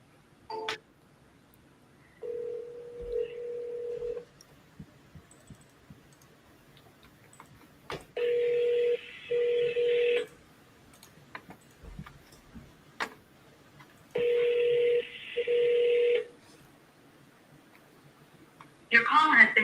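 Telephone calls to leads with a ringback tone sounding in several separated bursts, each a steady two-part electronic ring lasting about two seconds, clear against quiet with small clicks between.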